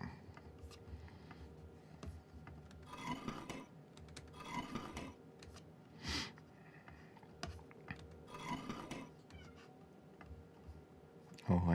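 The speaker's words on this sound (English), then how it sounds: "Oh, I hear my cat." A pet cat meows several times at moderate distance, short plaintive calls spread across a quiet room with faint background noise and a sudden louder knock at the end.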